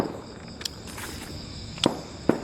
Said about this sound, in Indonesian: Jadi di sana ada yang main petasan ya malam-malam